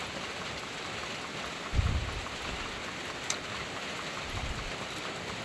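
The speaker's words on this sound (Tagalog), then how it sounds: "lalong lumalakas ang ulan guys, palakas ng palakas pa po ito" Heavy rain pours down on a New Year's morning around a home garden of potted plants, a dense, steady hiss across the whole clip with a soft low rumble rising briefly near the middle. No voices.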